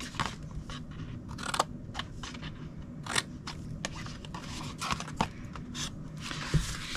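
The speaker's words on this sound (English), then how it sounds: "go to the next two score lines and cut them to the second score line" Scissors cutting scored cardstock for a holiday wreath gift box craft project: repeated crisp snips and short scraping cuts in an uneven rhythm, close to the microphone and moderately quiet, with no talking.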